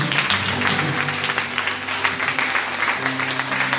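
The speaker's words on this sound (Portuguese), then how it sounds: "Aplauda forte o nome dele." Loud, steady applause from a church congregation during a Sunday missions service, dense clapping filling the room, with a low sustained musical drone underneath.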